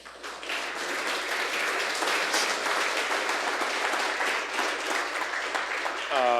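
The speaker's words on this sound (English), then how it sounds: "Let's do a big round of applause" Audience applause after a dual-speaker talk at a NetDevOps Days conference in New York, a dense, even roar of clapping held for several seconds that ends with a brief sound at the very end.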